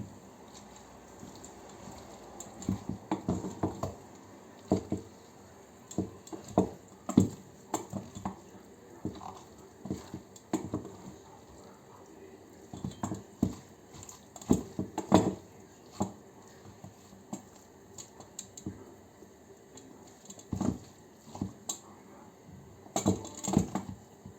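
Melted butter being stirred into pounded wheat pilaf, a spoon scraping and clinking against the pot in irregular bursts over a steady background hiss, fairly close and moderately loud.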